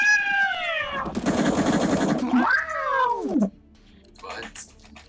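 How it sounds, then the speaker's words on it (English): A pet cat meows loudly and close by, giving a long drawn-out yowl followed by a bending, wailing meow, with a burst of rattling gunfire from a CS:GO match in between and a brief voice afterwards. "My cat, shut up!"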